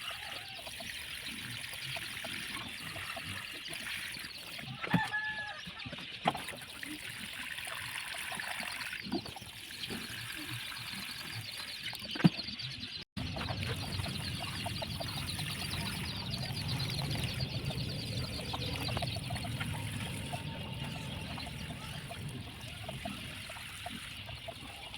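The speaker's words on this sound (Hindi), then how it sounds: "अब डालते हैं इन प्लांटों में पानी" Water poured from above into potted dahlia plants, a continuous trickling and splashing stream that runs steadily for about twenty-five seconds with a few faint knocks and a brief break midway, no voices.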